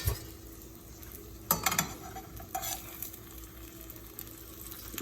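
Crab meat sizzles in a hot frying pan with a steady hiss, while a utensil stirs and scrapes with a few light clinks, including a brief louder burst of clatter partway through; no one talks.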